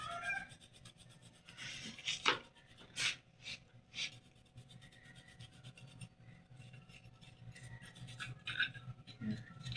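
A healing medallion and the cord tied to it are scrubbed with a cloth, giving close, uneven rasping rubs with a few sharper strokes, over a steady low background hum, with no talking.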